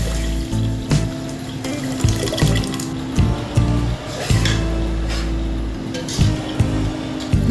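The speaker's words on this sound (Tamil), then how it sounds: "அடுத்ததா நம்ம கரைச்சி வச்சிருக்க புளி அதையும் சேர்த்துக்கிறேன்." Dissolved tamarind water is poured into a lentil-dumpling curry, a close, running splash and gurgle of liquid with a few clinks and knocks, lasting several seconds with no talk.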